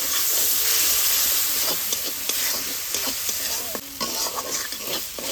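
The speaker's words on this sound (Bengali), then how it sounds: "অল্প একটু জল দিয়ে খুব ভালোভাবে আদাটাকে ভেজে নেব।" Ginger frying with a little water in a pan for veg dal, a loud hissing sizzle and steam close up with brisk stirring clatter over about five seconds.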